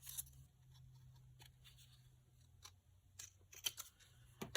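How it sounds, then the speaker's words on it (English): Scissors cut a paper journal pocket in half, giving faint, irregular crisp snips and paper rustles over a low hum, close by and quiet, with no talking. "what I'll do is just cut it in half"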